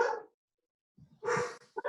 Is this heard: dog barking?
yes